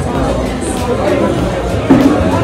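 Crowd chatter fills a busy Sher-e-Punjab roadside dhaba, a steady babble of many voices close around, with nearby talk rising over it.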